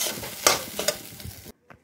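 A spoon stirs and tosses egg fried rice in a pan, making a few scraping, clattering strokes over a faint sizzle, close up, ending with a short pause and one last light scrape.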